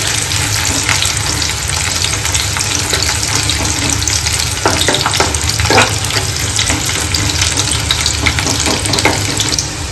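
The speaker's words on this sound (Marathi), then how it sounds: "कांद्याला थोडं लालसर होईपर्यंत परतवायचे. लसूण पण थोड्या तेलामध्ये शिजवायचं आहे." Onion and garlic fry loudly in oil for a spicy crab curry, a dense close sizzle with spoon scrapes and clatter running throughout.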